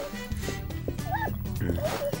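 A dog in the Hello Neighbor remaster barks a few times in short yips amid game music and ambient sound, moderately loud with a whimpering edge.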